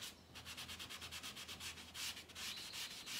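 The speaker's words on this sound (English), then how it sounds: "I'm going to sand that part really well because that way you won't be able to tell" Hand sanding along the edges of a painted, distressed furniture piece with a transfer, a quick rhythmic series of scratchy rubbing strokes, close and fairly soft, with no talk.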